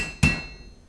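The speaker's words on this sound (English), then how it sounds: "hammering pieces of metal is usually a pretty loud process" A single sharp, loud hammer strike on metal rivets while making scale armor, a close metallic clang with a ringing tone that fades over the following second.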